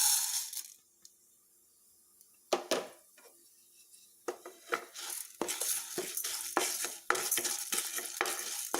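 Urad dal, toor dal, cumin seeds and pepper are dry roasted in a pan over medium flame. A spoon stirs and scrapes in irregular bursts, with rattling grains and metallic clinks between short quiet gaps.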